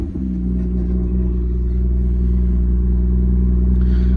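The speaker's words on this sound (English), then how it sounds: "Let me start the car up." A BMW M2 with DCT gearbox fires up, a brief catch at the start then a deep, loud, steady idle rumble close by, continuing evenly with a faint clatter near the end.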